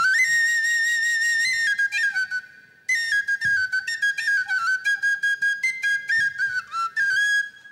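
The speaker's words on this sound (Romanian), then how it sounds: "Cânti la fluier" A fluier, the Romanian shepherd's flute, plays a bright, reedy folk melody on a folk-music television show, with held notes and a rapid run of short tongued phrases after a brief pause, loud and close.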